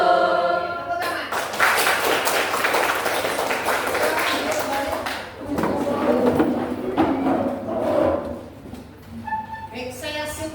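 A class of students clapping their hands together, a dense burst of many pairs of hands that runs for several seconds, fades briefly, then picks up again, mixed with voices and classroom noise.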